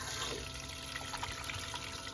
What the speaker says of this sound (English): And right now it's flushing with RV antifreeze.